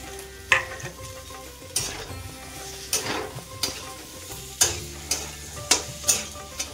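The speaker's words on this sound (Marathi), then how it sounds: "मिरचीमध्ये असे बटाटे आपल्याला थोडेसे फ्राय करून घ्यायचे आहे।" Potatoes frying with green chillies in a pan for sabudana khichdi, a low sizzle punctuated by repeated sharp scraping stirs of the spatula at close range.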